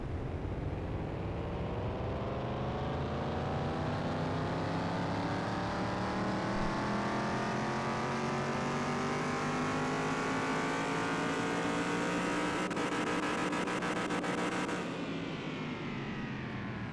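A car engine revs up continuously, its droning pitch climbing steadily for about fifteen seconds at a loud, close level before cutting off abruptly.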